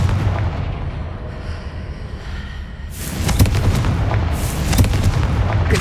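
Confringo explosion spell cast in the video game Hogwarts Legacy, a loud booming blast with crackling bursts over a dense rumbling game soundscape, with no voices.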